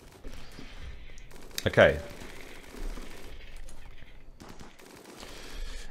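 Colonists in the video game Rimworld fire guns, a sharp burst of rapid shots standing out near the start over steady game ambience, with a voice speaking briefly.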